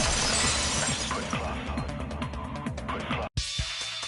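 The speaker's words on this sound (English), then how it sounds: "If it wasn't the window, then what broke to make that sound? A vase." A vase shatters in a dense, crackling burst of breaking, with scattered fragments rattling and clinking, then a brief silence and some lighter debris sounds.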